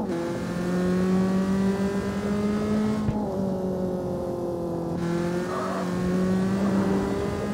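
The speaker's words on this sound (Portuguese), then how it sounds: "Olha o carinha dirigindo. Acelera!" A car engine accelerating in the racing game CarX Street, a steady rising whine of revs with clear harmonic tones, a brief dip at a gear shift around the middle, then climbing again, loud and alone.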